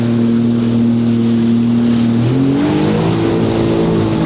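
A motorboat engine drones loud and steady while the hull rides over roughly six-foot waves, the pitch shifting midway as the throttle changes, with water rush underneath and no talk.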